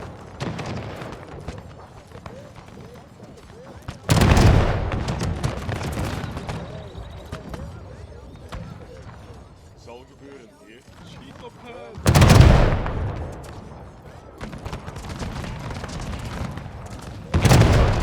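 Volleys of arquebusier musket fire and artillery booms in a Total War Shogun 2 pike and shot multiplayer battle, loud crackling bursts arriving in three separate waves over a lower rumble of distant shots and battle noise.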